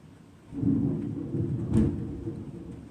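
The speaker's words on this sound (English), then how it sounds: "That was a really loud clap of thunder" A deep rumble swells in after a quiet start, with a sharp crack near the middle, then rolls on low and steady.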